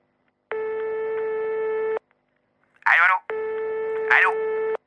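Phone ringing unanswered, two long steady electronic ring tones separated by a pause, loud and clear, with a voice speaking briefly between and during them.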